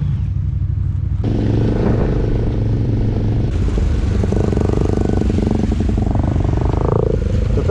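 A loud motorcycle engine roars nearby, its exhaust rumbling steadily and rising in pitch as it revs and pulls away.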